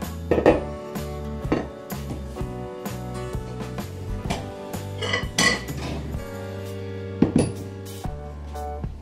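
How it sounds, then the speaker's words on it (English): Ceramic bowls and kitchen dishes clink and clatter nearby as one is pulled from a stack, a series of sharp knocks and rings at irregular intervals. "Let me grab a bowl"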